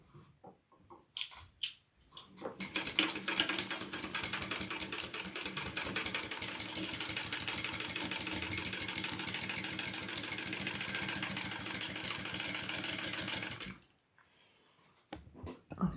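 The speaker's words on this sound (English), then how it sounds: "Let's top stitch this bad boy." A home sewing machine runs steady top stitching on a garment, one long continuous run of fast, even needle chatter lasting about eleven seconds, close and loud, with a few short taps before it and a brief stop after.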